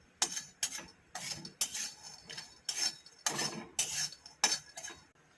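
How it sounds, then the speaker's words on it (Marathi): Peanuts being dry-roasted in a pan for sesame-jaggery laddoos, with repeated bursts of scraping and stirring from a spatula against the metal, about ten rhythmic strokes, close and fairly loud, no talk. "पहिलं म्हणजे आपल्याला शेंगदाणे थोडे भाजून घ्यायचे."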